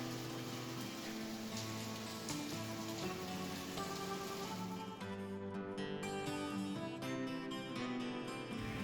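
Steady rain patters on surfaces in the Kinnaur Valley mountains of India, a dense continuous hiss with dripping and splashing close by, no voices.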